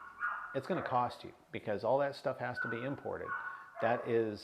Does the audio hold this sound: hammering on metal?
no